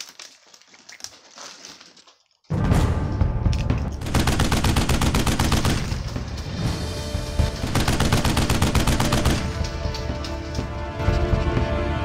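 A minigun opens up after a quiet couple of seconds and fires a loud, continuous, rapid-fire roar that runs to the end with only brief dips.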